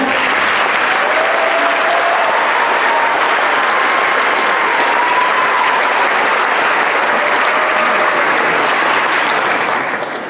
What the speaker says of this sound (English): Can we give it up for one more round of applause for Indian Trail?